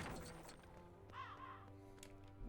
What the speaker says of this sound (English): Is it a crow or is it a raven?